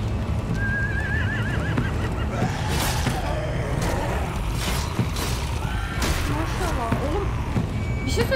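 Horses neigh and whinny several times in The Walking Dead video game, season 3 episode 5 finale. The high, wavering calls rise over a busy bed of game noise and low rumble.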